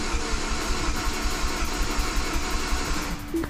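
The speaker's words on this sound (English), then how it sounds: "I'm gonna crank the engine one more time just to make sure the oil pressure's up" A Mini's engine, after sitting for two years, cranks with a steady rhythmic churning, close and fairly loud, running continuously with no voices.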